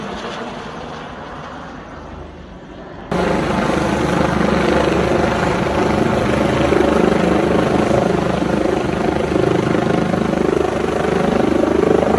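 A helicopter roars steadily overhead at a fire lookout, loud and close, with a thick rotor thrum that jumps in volume after a quieter few seconds of distant engine noise.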